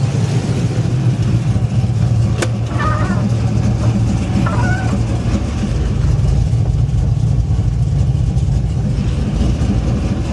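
A Chevy Silverado truck with a 6.0 engine and a 5-speed swap runs steadily at idle, a continuous low engine rumble filling the whole stretch with no talk over it.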